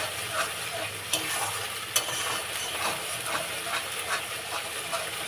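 Spice paste sizzles and fries in hot oil for a potato curry (aloo dum), a steady close hiss with soft scraping stirs and an occasional sharp click of the utensil against the pan.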